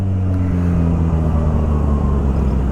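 A supercharged Kawasaki H2 motorcycle engine drones loud and close. Its deep, steady rumble carries layered tones throughout, but no distinct supercharger whistle stands out.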